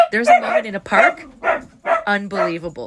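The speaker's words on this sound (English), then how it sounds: "I'm sorry my dogs barked" Barking from the speaker's dogs, sharp bursts breaking in among continuous close speech, with talk running over most of the short stretch.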